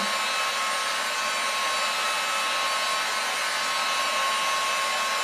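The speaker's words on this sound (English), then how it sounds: "So this heat gun will get really hot." A heat gun on high blows hot air over encaustic wax, producing a constant loud, even whooshing hiss with a faint whine throughout, close and uninterrupted, with no talk.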